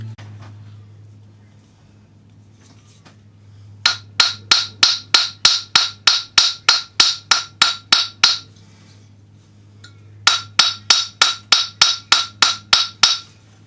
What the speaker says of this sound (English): we're going to use the round part of the planishing hammer, and we're going to hammer in between the marks